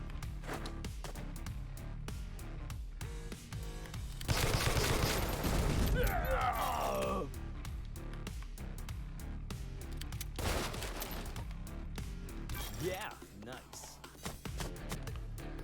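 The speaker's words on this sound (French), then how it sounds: "On va se faire la mitrailleuse, lui." Bursts of machine gun fire ring out in the video game The Takeover, loud rattling volleys clustered mid-clip amid music and game effects, with a voice talking over parts.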